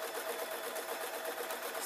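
A sewing machine stitches along the top edge of a handmade knitting bag with bamboo handles, giving a steady, continuous whirring hum with no pauses.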